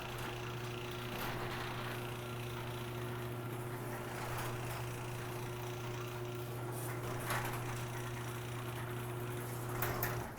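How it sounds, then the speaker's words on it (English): Steady motor hum with a constant low drone from a MyQ smart garage door opener opening the door, with occasional faint rattles and clunks. "Now it's opening."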